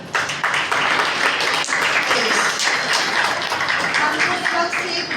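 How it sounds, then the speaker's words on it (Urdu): A church congregation claps loudly together at a worship gathering, a dense, steady wash of hand claps filling the whole stretch. "آئیں زوردار تالیاں کریں"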